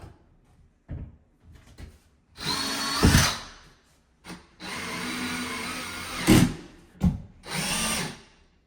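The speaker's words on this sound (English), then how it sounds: "So all I have to do is screw it in." A power drill whirs in two sustained bursts with short pauses and clunks between, driving screws into a wooden board close by while installing a corner shower frame.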